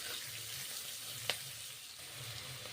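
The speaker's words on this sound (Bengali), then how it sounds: "তারপর তেল দিলাম, বিনস ভাজাগুলো দিয়ে দিলাম।" Fried beans tipped into hot oil in a kadai over a black cumin and bay leaf tempering, giving a steady close sizzle with one sharp clink partway through.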